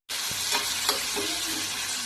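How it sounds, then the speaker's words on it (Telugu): Onions frying in oil in a pan, a dense close sizzle starting abruptly and running steadily with a couple of light stirring knocks, no voices. "ఉల్లిపాయలను కూడా వేయించుకులా వేయించుకోవాలన్నమాట కొంచెం ఫ్రై అవ్వాలి బ్రౌన్ కలర్ వచ్చేంత వరకు"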